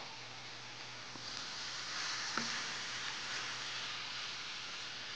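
Japchae noodles and sliced onion being stirred and mixed in a hot pan, giving a steady soft sizzle with faint scraping and a couple of light utensil taps, moderately quiet and close.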